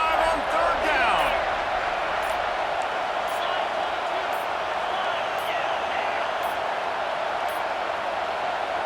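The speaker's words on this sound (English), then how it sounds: "The Buckeye crowd alive on third down." A stadium crowd in the College Football 25 video game roars on third down in a home Buckeye setting, a broad sustained cheer beneath a commentator's talk, with faint periodic clicks.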